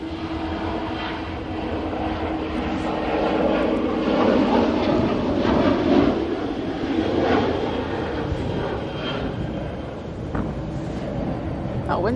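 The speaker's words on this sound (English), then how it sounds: "nearly here is the TUI Dreamliner from Cancun" TUI Boeing Dreamliner arriving from Cancun, a low broad rumbling roar that swells in the middle and eases off, heard outdoors in blustery wind alongside someone talking.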